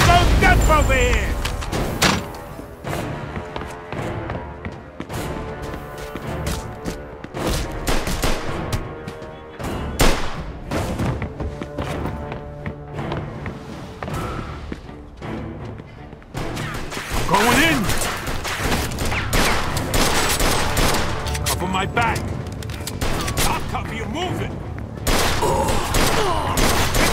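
Gunfire rattles in the video game Mafia II, dense repeated shots and rapid bursts cracking close and loud for a long stretch, with crashes mixed in and voices talking between volleys.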